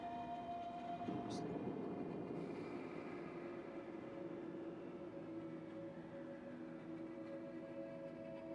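Trains rolling along in the video game Factorio, a steady rumbling rail drone with a brief higher whine early on, continuous and moderately loud throughout.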